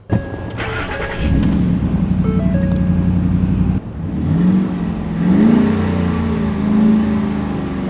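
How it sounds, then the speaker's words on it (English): A V8 pickup truck engine starts up close by with a loud roar, then settles into a deep idle before two or three rising revs swell and fall back. "I love that V8 sound"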